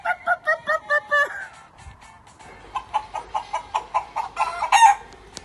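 Children imitate a chicken for a funky chicken song, with a run of rhythmic clucking bursts followed by a faster series of voiced clucks and a short crow-like cry, close and lively.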